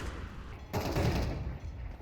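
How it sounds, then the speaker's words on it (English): Rapid bursts of rifle fire in Counter-Strike on the Overpass map rattle continuously through a dense layer of game noise, with a louder flurry in the middle and no clear talk. "Headshot on a Wu Zhang."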